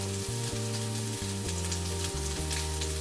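Melted butter sizzles steadily in a pan while being stirred round and round, a constant close frying hiss with faint scraping, under a steady background hum.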